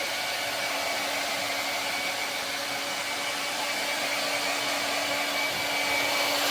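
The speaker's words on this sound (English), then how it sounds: "I'm going to start drying the hair." A hair dryer blows steadily and close while hair is dried during a fade haircut, a continuous loud airy whoosh with a faint whine and no pauses.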